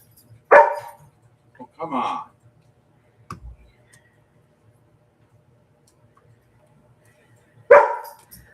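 A pet dog lets out a few sharp, separate barks indoors, with long quiet gaps between them and a short spoken remark near the middle.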